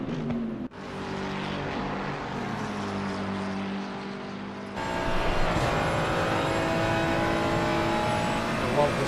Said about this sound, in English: I love the sound of the Ferrari.